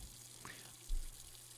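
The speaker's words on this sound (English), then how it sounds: "I think I left that water on." A tap left running in a house in the video game Beacon Pines, a faint, steady trickle of water with a brief soft splash.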